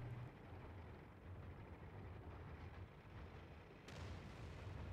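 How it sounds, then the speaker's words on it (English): Artillery shell bursting near a tank and missing it in the World of Tanks video game, heard as a distant low rumble with a sharper impact near the end over constant engine noise. "Artillery misses me."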